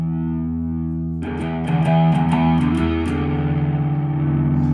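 Electric guitar chords ring out with a gritty overdrive tone and a sweeping phaser swirl through a Saturnworks 3-loop parallel blender pedal, played up close with no talking.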